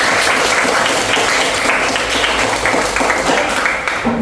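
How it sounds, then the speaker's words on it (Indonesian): An elementary school class claps together after group presentations, a loud, dense, continuous burst of hand clapping filling the room. "Ya, kita tepuk tangan untuk kita semua."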